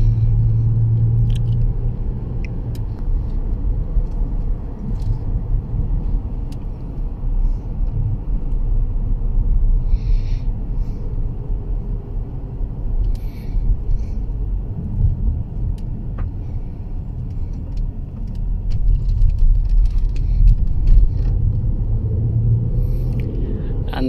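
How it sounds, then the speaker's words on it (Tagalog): Road traffic of many cars on a street in Riyadh, heard from inside a moving vehicle as a continuous loud low rumble with faint passing swells. "marami na yung sasakyan."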